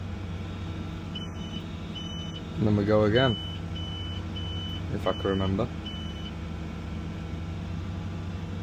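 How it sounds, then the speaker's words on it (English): Short high-pitched electronic beeps from LR 11350 crane controls repeat in an uneven series as buttons are pressed during a turbine section lift, each cut off quickly, over a steady machine hum, with someone talking briefly in between. "that beeping, just because I'm impatient and pressing the buttons too quick"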